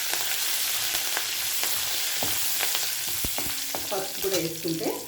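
Curry leaves and mint sizzle and crackle in hot oil, a steady broadband frying hiss with scattered pops and a few utensil clicks, growing busier toward the end.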